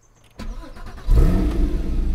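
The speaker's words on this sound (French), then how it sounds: "pied sur l'embrayage, on met le contact, on ouvre les valves et on démarre" A Porsche Cayman GT4 (981) engine cranks with a short starter whir, clutch pressed and valves open, then catches and settles into a loud, steady rumbling idle up close.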